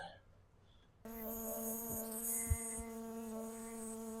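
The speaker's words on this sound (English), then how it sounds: "This bee must really think my fuzziness is a bear or something. He's really going at it." A honey bee buzzing persistently close to a beekeeper working hives, a steady high drone that starts abruptly and holds, with faint soft knocks underneath.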